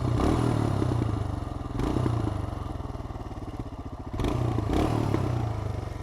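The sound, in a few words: Royal Enfield Himalayan single-cylinder motorcycle exhaust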